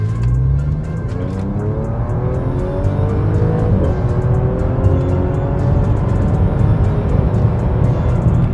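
An Audi S4 sedan in dynamic mode accelerates hard, its engine note climbing steadily through rising revs, close and loud throughout with no talking.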